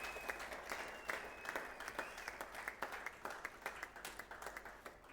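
A church congregation at a Sunday service claps together in a steady rhythmic beat, the sound fairly distant and soft with faint voices underneath.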